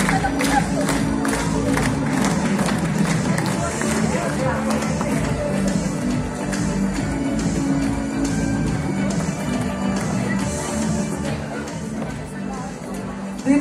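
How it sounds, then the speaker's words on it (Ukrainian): Audience at a music performance breaking into applause and cheering, a dense, loud wash of clapping and crowd noise that runs steadily and fades slightly at the end. "Оплески."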